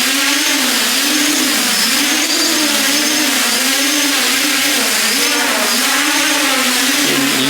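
Drone motors running at high speed in manual mode on a NAZA-controlled craft, a steady loud whine whose pitch wobbles rapidly up and down in a continuous oscillation throughout.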